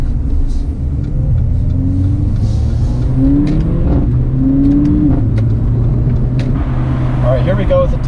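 A 2018 Mercedes-Benz CLA 45 AMG engine drones steadily from inside the cabin while driving, with low rumble and rising tones as it pulls through gears, and someone speaking over it.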